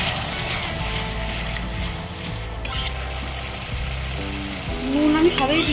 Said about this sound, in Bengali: এবার টমেটো পেস্টটাকে দিয়ে দেবো। সেটা একটু ভালো করে নাড়বো